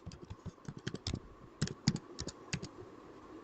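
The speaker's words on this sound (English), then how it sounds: "I'm going to type" Keystrokes on a computer keyboard, typed in an irregular run of quick clicks with a few harder presses, close and fairly quiet, with no voice.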